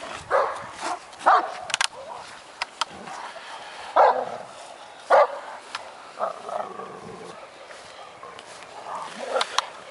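Kangal dogs scuffle and bark in short loud bursts, with yips and snarling between barks, while people talk nearby.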